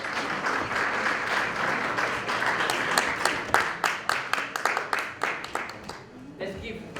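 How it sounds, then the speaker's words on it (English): Audience applause at an evening recognition ceremony honoring Coca-Cola, a steady dense patter of clapping from a hall crowd that thins toward the end into scattered individual claps, with speech mixed in. "That's a very weak, very, very weak applause"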